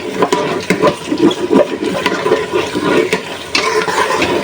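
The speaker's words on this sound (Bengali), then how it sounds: "এখন একটু পানি দিয়ে দিবো" Water splashes into a hot pan of oily sautéed beef tripe with a rough, bubbling hiss that surges and fades over several seconds, with stirring noises, close by.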